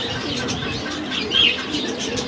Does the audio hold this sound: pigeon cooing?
yes